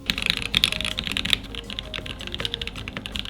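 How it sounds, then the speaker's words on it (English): Rapid clacky typing on a custom-built mechanical keyboard fitted with new keycaps, a dense run of crisp keystrokes with occasional louder bottom-outs, close and steady with no voices. "we can put the keycaps on and do a cheeky sound test"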